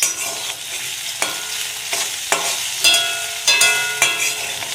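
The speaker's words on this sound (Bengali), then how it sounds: "এখানে হচ্ছে আলু ভাজা বসা দিয়েছি।" Potatoes fry in a pan with a steady sizzle, broken by several sharp scrapes and clinks as a utensil stirs them every second or so, close and fairly loud.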